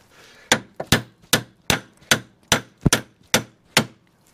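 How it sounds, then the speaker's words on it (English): Sharp hammer whacks on the front suspension of an Iveco Daily camper van during a teardown, about ten loud metallic strikes in an uneven rhythm, close by with no talk. "Give it a good whack. Same on the other side."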